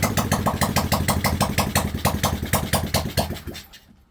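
A small single-cylinder monkey bike engine needing carburettor adjustment idles with a rapid, even putter, close and loud throughout, then sputters and cuts out near the end.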